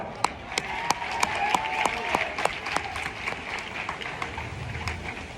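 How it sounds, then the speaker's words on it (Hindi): Applause from a crowd of young tribal listeners at a public address in India, with sharp individual claps standing out at the start over a sustained bed of clapping that gradually evens out. "एक बार फिर ताली बजाओ।"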